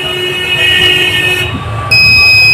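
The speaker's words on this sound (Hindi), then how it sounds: "अरे ये तो बीप आ रही है, इसका मतलब बीप आना ही कि आपका रेगुलेटर खुला हुआ है भाई" A homemade kitchen gas-regulator safety alarm sounds because the regulator was left open: a steady, shrill electronic tone that jumps louder and sharper near the end, with no talking.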